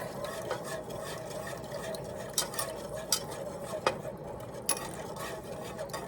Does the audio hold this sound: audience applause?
no